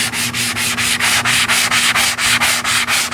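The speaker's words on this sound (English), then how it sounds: "lightly sand it just to get it smooth again" Hand sanding of primer on a wooden dresser produces about fifteen rhythmic rasping strokes, each a bright scratchy swipe with brief pauses between, close and loud with no speech.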